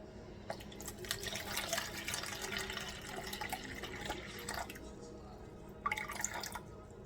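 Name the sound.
pouring 300 grams filtered water into sourdough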